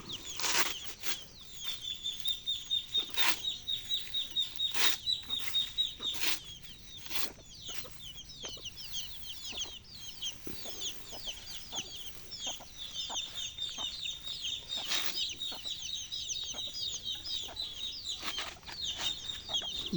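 Local country chickens cluck repeatedly around a rural farmyard, with occasional wing flaps and brief high calls, steady and moderately close throughout.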